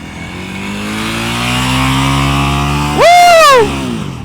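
A motorcycle engine hums steadily during slow-speed riding practice, then abruptly revs high for about half a second with a loud rising whine before settling back down.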